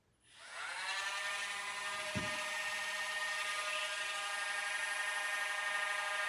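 A Dremel rotary nail grinder spins up and whines steadily near a muzzled dog, a loud, continuous high-pitched buzz that holds without pause throughout, with a brief low thump partway through.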